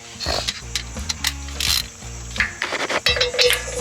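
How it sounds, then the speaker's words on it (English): A torque wrench reaching 45 foot-pounds during a transmission install on a Chevy Express, giving a few sharp metallic clicks close by among ratcheting and clinking sounds, with no talking. "Hear that? Click, click. That's 45 foot-pounds."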